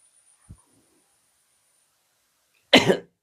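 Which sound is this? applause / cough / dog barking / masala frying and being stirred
cough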